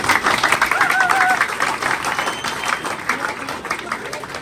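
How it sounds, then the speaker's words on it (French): An audience of students in a university hall breaks into steady, loud applause that swells early and then gradually thins, with a voice faintly audible beneath the clapping. "Applaudissez-vous s'il vous plaît."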